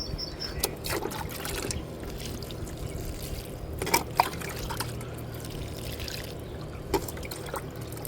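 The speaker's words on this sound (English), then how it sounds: "pour water over this" Water poured from a container over a freshly planted hanging basket of soil and plants, a steady close trickle and splash running for several seconds with a few sharper splashes.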